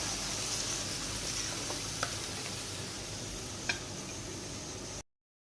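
Okra fries in oil over a high flame with a steady, even sizzle, broken by a couple of faint ticks before it cuts off abruptly.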